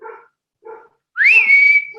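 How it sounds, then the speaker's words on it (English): A nearby dog gives two short, sharp yips, followed by a longer, high, rising and then level whine or whistle-like cry, each sound loud and close with silence between. "The dog is barking."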